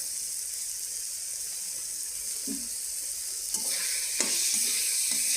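Soft, steady sizzling of spiced rice frying in a pan, with a few scraping stirs becoming more frequent toward the end.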